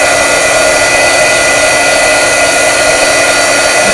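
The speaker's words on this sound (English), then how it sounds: "So I take the heat gun. Don't forget to have your heat gun heat up a little bit warm" A heat gun runs while warming up before embossing stamped work, producing a loud, constant blowing whir with an even tone and no breaks.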